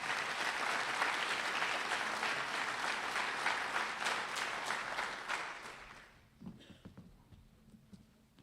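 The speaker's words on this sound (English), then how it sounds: "Let's give this team a round of applause" An audience at an agricultural program's spring banquet claps loudly and continuously for about six seconds, then the applause fades quickly to a few scattered claps and faint room noise.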